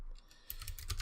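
Keystrokes on a blue-switch mechanical keyboard with no keycaps come as soft, sparse clicks and then a quick, close cluster of clacks in the second half, with no voices.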